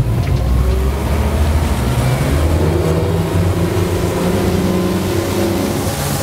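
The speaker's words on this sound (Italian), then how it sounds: "mandare la barca a planata, ingranare le marce, affondare il gas e seguimi" A Sessa Oyster 27 motorboat on Lake Garda accelerates to planing speed, its engine a loud, steady low roar with rising pitch, blended with rushing water and wind noise throughout.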